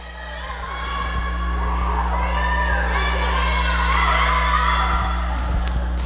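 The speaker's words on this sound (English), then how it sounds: "the Meadville JV team has formed their own little cheering section in the balcony" JV volleyball team cheering from a gym balcony during a high school match: a distant crowd of young voices shouting and whooping together in a rising, sustained roar over a steady background hum.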